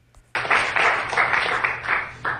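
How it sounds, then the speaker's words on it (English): A studio audience bursts into clapping after a brief quiet moment, then keeps up a full, continuous round of applause with slight surges, fairly close and loud, with no voices over it. "None of the people in the audience clapping right now would ever clap"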